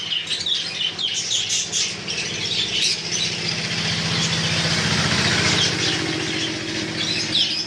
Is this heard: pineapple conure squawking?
yes